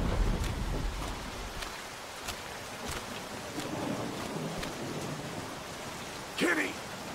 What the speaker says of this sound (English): There's a storm brewing.